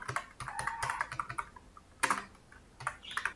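Keys rattle on a computer keyboard while someone types data into an Excel pay slip. The clicks come in quick, uneven bursts, fairly close, with short pauses and a sharper tap midway. No voices are heard.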